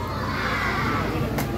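Children shouting and cheering excitedly in a crowd at a political rally for the president, a dense, continuous roar of young voices close by.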